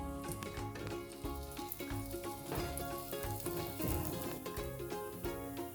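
Cardamom, cinnamon and ground spice powder frying in a hot pan for paneer butter masala, a steady close sizzle running throughout beneath background music.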